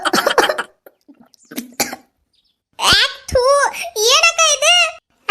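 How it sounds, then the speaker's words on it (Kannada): A woman gives a quick burst of harsh, close coughs, followed by spoken voices after a short pause. "ಪಾಪ ಅವಾಗಿಂದ ಖೋಕ್ ಖೋಕ್ ಅಂತ ಕೆಮ್ಮಾತಿ"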